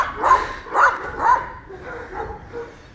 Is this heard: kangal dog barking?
yes